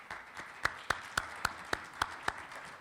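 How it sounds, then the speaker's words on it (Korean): An audience applauds a lecture by a professor on innovators and entrepreneurs at the NFT META Seoul 2021 summit forum, with sharp, evenly spaced claps in a steady rhythm over a soft hall murmur. "큰 박수로 청해 듣겠습니다."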